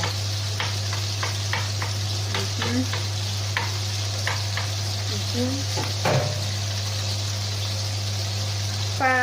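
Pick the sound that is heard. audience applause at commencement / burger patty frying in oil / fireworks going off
burger patty frying in oil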